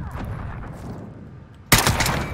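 A single loud SKS rifle shot in Modern Warfare, sharp and close, cracking out of quiet background noise near the end and ringing briefly.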